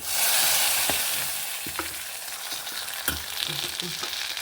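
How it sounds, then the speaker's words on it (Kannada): Mustard seeds, fenugreek and a dried red chilli spluttering in hot oil for a radish curry tempering: a dense, loud sizzle that starts strong and eases, with irregular crisp pops and crackles close up. "ಒಂದು ಕಾಲು ಟೀ ಸ್ಪೂನ್ ಮೆಂತೆ ಒಂದು ಒಣಮೆಣಸು ಸಹ ಹಾಕಿದೆ ಫ್ರೆಂಡ್ಸ್ ಸಾಸಿವೆ ಹುಟ್ಟುವಾಗ ಒಗ್ಗರಣೆ ರೆಡಿ ಆಗುತ್ತೆ"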